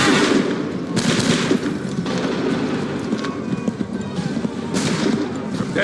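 Muskets fire on command in the video game Assassin's Creed III: several loud, ragged volleys of gunshots crack out at uneven intervals over a continuous rumble of battle noise.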